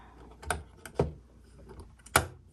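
A case cover on a Penncrest Concord 10 electric typewriter, metal pieces pushed into rubber holes, snaps down in three sharp, close clicks spaced across a quiet background.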